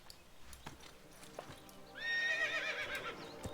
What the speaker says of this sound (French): Je peux le faire cabrer le cheval, je viens de voir.